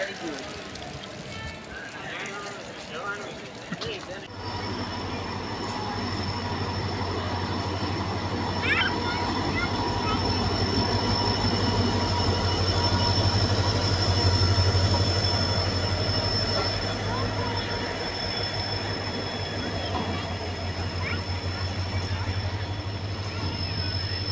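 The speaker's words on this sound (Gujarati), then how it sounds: "પાંત્રીસ મિનિટનો હોલ્ટ કરીને આપણી ટ્રેન નીકળી ચૂકી છે જેતલસરથી" A passenger train pulls out of Jetalsar station after a halt, its rumble and wheel noise building into a steady roll with a long high wheel squeal, while occasional voices sound faintly inside the carriage.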